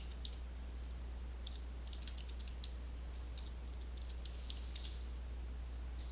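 Sparse, faint key clicks from numbers being typed on a computer keyboard, scattered irregularly over a steady low hum with no talking.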